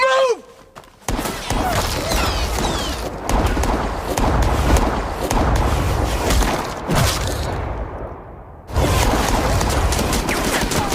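Gunfire exchange with a robot army in the sci-fi film Kill Command: dense, sustained bursts of shots and booms filling the scene, with a brief drop in intensity before the firing swells again; a voice is faintly present early on.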